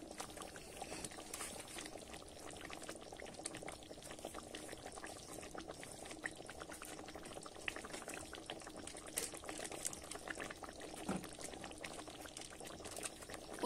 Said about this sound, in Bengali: আমি 1 মিনিট মতো ফুটাবো